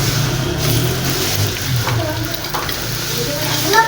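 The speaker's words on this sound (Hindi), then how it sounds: "सबसे पहले हम इसमें मिलाएंगे प्याज" Onions dropped into a hot tadka for restaurant-style daal, a steady close sizzle and frying crackle with a low hum underneath, no talking.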